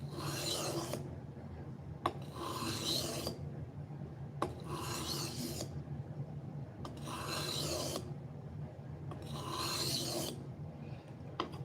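A knife blade is sanded with 400 grit abrasive, heard as repeated rasping strokes, about five rhythmic passes a couple of seconds each, close and clear, with small knocks between strokes and no talk.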